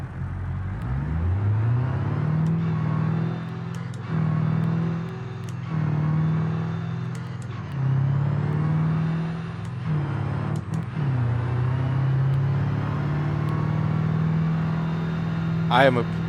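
A car engine in the BeamNG video game revs and drops repeatedly through gear shifts, a steady droning note rising and falling over several cycles, with people talking over it.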